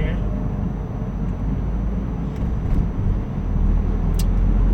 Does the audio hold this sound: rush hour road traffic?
yes